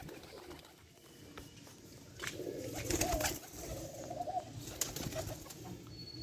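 Pigeons in a pigeon house coo softly at moderate distance, with low murmuring calls rising and falling over several seconds amid faint rustling.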